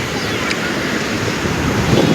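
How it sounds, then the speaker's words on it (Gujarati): Sea waves rolling onto the shore at Somnath beach make a loud, continuous broadband roar, with gusty wind buffeting the microphone and surf swelling slightly toward the end. "એવા મોજા આવે છે અહીંયા"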